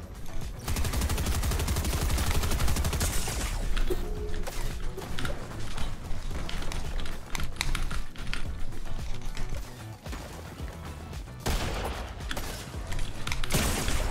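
Rapid gunfire bursts rattle through a video game match, dense volleys of shots with short pauses, loud and close throughout with no talking.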